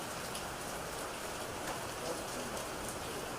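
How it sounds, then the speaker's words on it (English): Steady rain falls throughout during an outdoor press conference on flooding in Baton Rouge, a dense, even hiss of drops on surfaces with no breaks, fairly close and moderately loud. "It's the rain."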